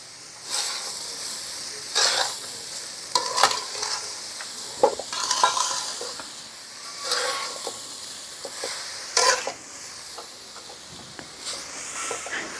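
Grated coconut and sugar for coconut barfi stirred and cooked in a pan, a spatula scraping in repeated strokes over a soft steady sizzle, close and moderately loud with no talking.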